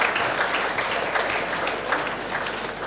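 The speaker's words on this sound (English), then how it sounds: "Can you extend a big round of applause for him?" A seminar audience at SNS Institutions in Coimbatore gives a round of applause, with steady, dense clapping that fills the whole moment at an even level and is heard without any talk.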